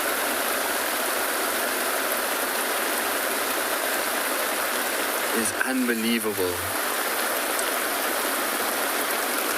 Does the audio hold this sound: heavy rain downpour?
yes